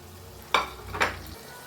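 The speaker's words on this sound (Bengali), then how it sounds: "মশলার মধ্যে বরবটি কড়িগুলো দিয়ে দেব" Yardlong beans drop into hot frying spice masala, bringing two quick bursts of sizzle over a low, steady background of frying.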